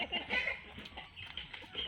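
Native chickens clucking nearby in a backyard flock, a run of soft, irregular clucks and chirps mixed with faint voices in the background.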